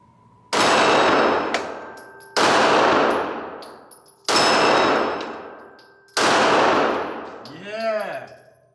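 Four loud, sharp shots from a Springfield XDM Elite Compact 9mm pistol fired at a target, evenly spaced about two seconds apart, each ringing out and decaying, the last followed by a warbling metallic ring.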